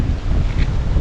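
Strong outdoor wind buffets the microphone in a loud, rumbling low roar that fills the whole moment without pause.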